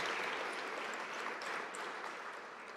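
Audience applause for panelists at a conference panel, an even wash of many hands clapping at moderate distance, fairly soft and steady throughout with no talking.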